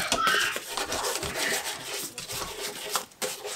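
Sandpaper rubs steadily over wooden edges, rounding them over on a homemade bowed-guitar cellotar; a close, continuous rasping scrub with short rhythmic strokes and no talking.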